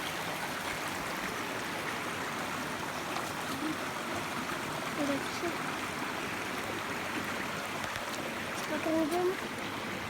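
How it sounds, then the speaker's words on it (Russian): A river roars steadily on the way to a waterfall, a broad continuous rush of water close by and filling the whole clip, while someone speaks briefly over it. "Речка шумит."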